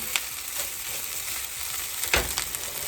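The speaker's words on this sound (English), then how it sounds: "we can start mixing it in with our rice and tossing it, and it'll keep cooking" Egg and rice fry in a pan, a steady sizzle broken by a few scraping tosses, with one louder stir-and-scrape near the end, close and alone without talk.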